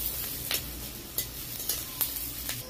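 Chopped onion sizzles in hot oil with a continuous crackling hiss, while a spoon scrapes the pan in regular strokes about every half second, close and clear with no talk.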